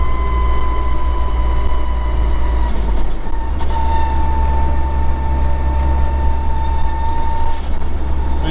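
Land Rover Series 3 gearbox whining on overrun under a constant loud low engine and drivetrain drone inside the vehicle, a steady tonal whine with a slight shift midway, no voices.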